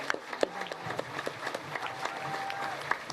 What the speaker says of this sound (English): a round of applause for Milltown lads